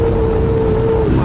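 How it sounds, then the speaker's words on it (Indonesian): A motorcycle cruises along a Malaysian toll road with a steady, loud engine drone and rushing wind noise, plus a sustained whining tone, filling the whole brief moment. "seperti inilah rasanya naik motor di jalan tol Malaysia"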